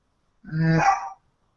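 A dog gives one drawn-out, tonal bark close by, lasting under a second, with silence before and after and no voices.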